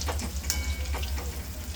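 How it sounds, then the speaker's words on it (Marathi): Round bhaji fritters deep-frying in hot oil, a continuous bubbling sizzle close by with a low rumble beneath and small irregular pops and spatters. "गोल्डन कलर येईपर्यंत भजी तळून घ्यायचे।"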